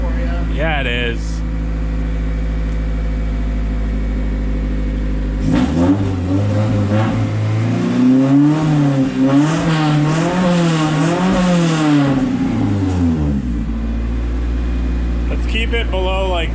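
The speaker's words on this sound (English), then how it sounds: "There's a Honda motor for you." A Honda-swapped Mini estate's engine idles loudly, then revs up in rising and falling sweeps for several seconds before dropping back to a steady idle, close and dominant.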